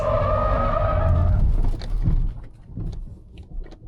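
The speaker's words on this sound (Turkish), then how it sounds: "Mini bir spin." A Hyundai i20N or BMW Z3 Coupe on a track spins out, its engine loud and tyres skidding and squealing for about two seconds before the noise drops to scattered scuffs and rumbles.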